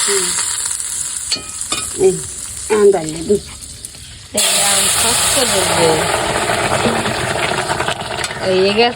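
Curry frying in hot oil while being stirred in a pan gives a steady close sizzle throughout, loudest after an abrupt jump midway, with scraping stirs and a voice speaking briefly early on.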